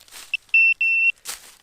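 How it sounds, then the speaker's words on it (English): A metal detector gives a short blip and then two long sustained electronic tones over a small old nail fragment near a Civil War railroad bed, with faint rustling from digging before and after. "when it beeps, there's so much stuff in this area"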